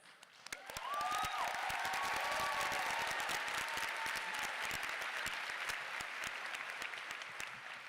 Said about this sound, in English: one more round of applause for these wonderful group